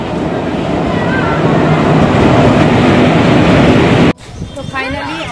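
A train at a railway station rumbles loudly and close in a steady broadband roar for about four seconds, then the sound cuts off abruptly to a quieter platform scene where voices talk.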